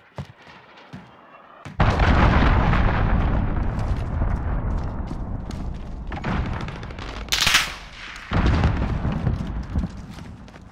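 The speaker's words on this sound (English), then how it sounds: "Enemy cruise missile, take cover." A cruise missile strike with gunfire in Call of Duty Modern Warfare multiplayer, a sudden dense roar of explosions and rapid automatic fire that sustains loudly, with bursts of hissing blasts and renewed rumbling near the end.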